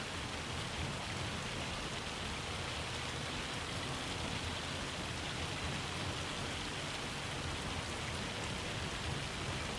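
Steady rain mixed with hail in Farming Simulator 25 hisses as a dense, even wash of drops pattering on surfaces, continuous and moderately loud with no voices.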